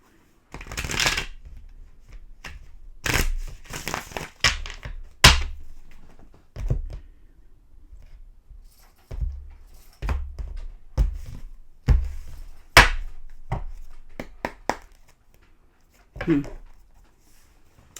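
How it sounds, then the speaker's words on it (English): Tarot cards are shuffled repeatedly in quick riffling bursts, with soft taps and thunks between them, close and fairly loud. "One more shuffle"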